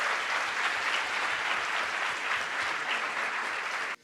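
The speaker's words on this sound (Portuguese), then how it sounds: "Salva de palmas aí para 4MTI." An audience at the Brazil Conference 2017 gives 4MTI a steady round of applause. The clapping is dense and even, fairly faint and distant, and cuts off abruptly at the end.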